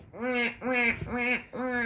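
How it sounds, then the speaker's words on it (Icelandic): Ducks quacking close and loud, four distinct nasal quacks in a steady rhythm with short gaps between, and no other sounds around them. "Þau heyrðu í öndunum kvaka"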